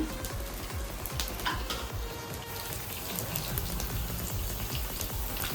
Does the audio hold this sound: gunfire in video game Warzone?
no